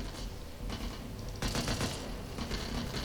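Dense, loud automatic gunfire in the zombie shooter Back 4 Blood, a continuous rattling stream of rapid shots that swells into a heavier burst partway through, with no talk over it.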